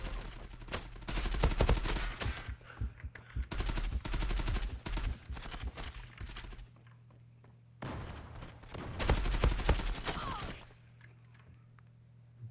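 Gunfire in the online shooter Zula, with rapid automatic bursts and single shots in clustered volleys, loud and close, separated by quieter gaps with a steady low background hum.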